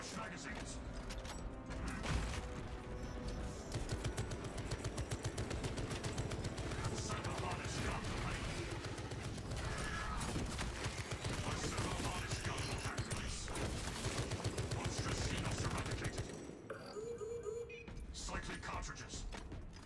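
Mounted turrets hammer out sustained rapid gunfire in Warhammer 40,000: Space Marine 2, a dense, continuous mechanical barrage with heavy impacts and clanks running nearly twenty seconds before briefly easing near the end.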